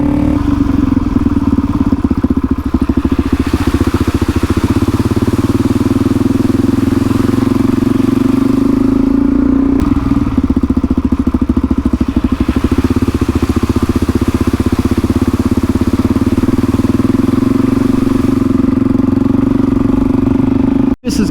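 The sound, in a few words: Suzuki DRZ400E motorcycle engine while riding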